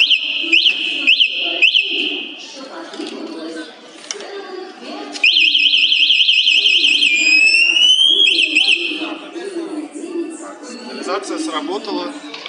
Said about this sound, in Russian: Также имеется сигнализация. Мы покажем, как она работает.